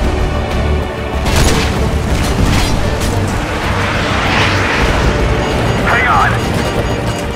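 Heavy explosions from fighter jet strikes boom through a loud, dense battle scene in Call of Duty Modern Warfare 2 at the Gulag, with rumbling blasts and debris under constant noise and a brief spoken line.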